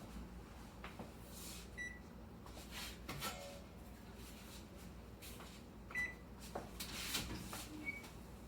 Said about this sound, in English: We're going to get this pizza out and have a look.